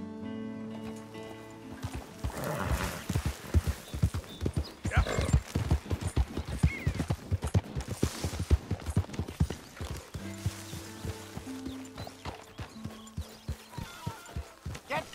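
Horse hooves clip-clop steadily and close in Red Dead Redemption 2, with a brief whinny and soft tonal music playing underneath.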